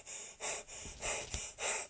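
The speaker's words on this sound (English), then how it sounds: "Can you stop that heavy breathing now?" Heavy breathing, four loud, close, rhythmic breaths with harsh airy inhales and exhales, alone without talk.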